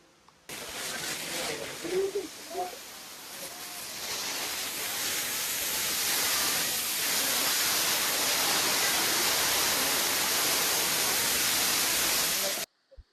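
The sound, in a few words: waterfall in Bali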